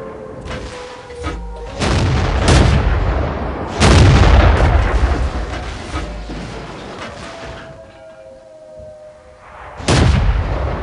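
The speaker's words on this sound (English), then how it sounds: "That one bounced. We didn't penetrate their armor." Tank cannon shots boom and clang off enemy armor in the World of Tanks video game with the T1 Heavy, four loud heavy blasts at roughly two-second intervals, each with a rumbling tail, set over a constant engine drone.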